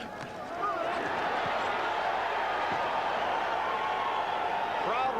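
Boxing arena crowd at a Larry Holmes vs Carl Williams heavyweight bout, a dense, steady roar of voices and cheering swelling after a punch combination, loud and continuous with scattered whoops.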